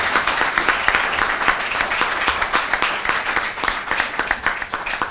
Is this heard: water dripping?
no